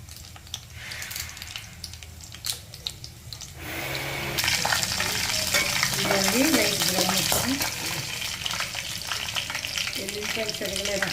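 Curry leaves hit hot oil in a pan for a stir-fried ridge gourd dish with coconut and coriander. A sudden loud sizzle swells partway through and keeps crackling steadily, with scraping stir strokes close by.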